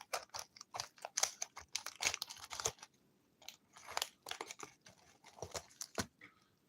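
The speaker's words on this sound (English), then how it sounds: "We slip the scissors in and we cut away from the item." Crisp, irregular snips and paper crinkles of scissors cutting through an envelope, close up with short pauses between bursts.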